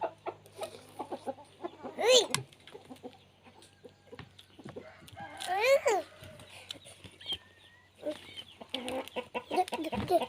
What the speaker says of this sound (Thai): ไก่ ไก่มาแย่งกินแล้วนะคะ